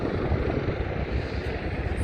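A helicopter flies over Hong Kong's Victoria Harbour, giving a loud, continuous rotor-and-engine rumble with a dense low throb and no pauses.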